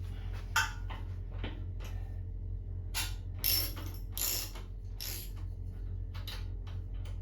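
A wrench undoes the top bolt on a 1997 Harley-Davidson Heritage Classic petrol tank, giving several faint, scattered metallic clicks and ratcheting taps over a constant low hum.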